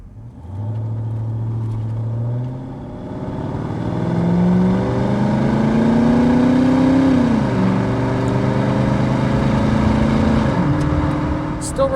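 A 1989 Ford Mustang 5.0 V8 with automatic transmission and original exhaust revs up from a low idle, rising in pitch through several long pulls with a brief dip between, loud and close with a throaty rumble.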